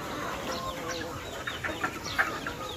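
Small chickens on a poultry farm in Assam cluck and cheep in short, scattered bursts, a busy, moderately loud chatter of several birds close by with no voices.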